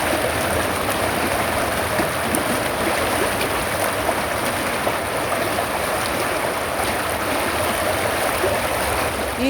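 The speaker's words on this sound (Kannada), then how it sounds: "ಈ ಬಾವ್ ನದಿ ಮಾರ್ಲೇಶ್ವರ್ ವಾಟರ್ಫಾಲ್ಸ್ದಿಂದಲೇ ಕೆಳಗಡೆ ಹರಿತಾ ಬರ್ತಾ ಇದೆ." The Bav river, flowing down from the Marleshwar waterfalls in the Konkan monsoon, rushes steadily past a bridge in a continuous broadband roar of running water.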